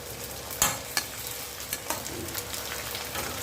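Rice vadam frying in hot oil, a steady soft sizzle with a few sharper crackles and pops near the start, close by with no talking.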